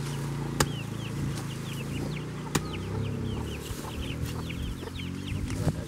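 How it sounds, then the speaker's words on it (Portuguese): Chickens clucking and chirping around a sweet potato and cassava harvest in a farm plot, a steady chorus of short calls close by with a couple of sharp knocks, no talking. "As galinhas estão aqui no pé da conversa."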